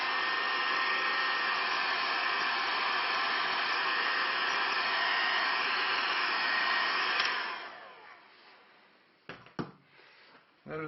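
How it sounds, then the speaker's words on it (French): A heat gun or hair dryer blows steadily and loudly while warming a repaired leather car seat, a continuous whooshing roar for about seven seconds before it cuts off, followed by a few faint knocks. "un petit coup de décapeur thermique ou de sèche-cheveux"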